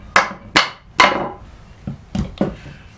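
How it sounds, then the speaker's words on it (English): A chisel working a wooden tenon at a bench hook, giving six close, sharp knocks and thwacks in an uneven rhythm, each with a short woody ring, and no voices. "So I can do the same thing I did before"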